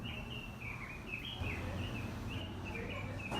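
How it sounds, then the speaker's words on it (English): A bird on Hawaii's Big Island sings a thin, warbling whistled phrase that rises and falls repeatedly over a low background hum and murmur. "do you hear those birds?"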